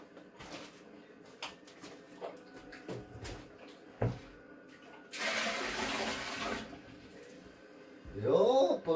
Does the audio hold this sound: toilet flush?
yes